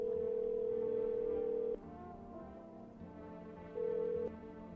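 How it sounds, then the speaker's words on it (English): A phone rings in the video game No I'm not a human: a steady electronic tone sounds for almost two seconds, pauses, then returns briefly, with a low hum underneath. "Oh, we can phone the neighbour."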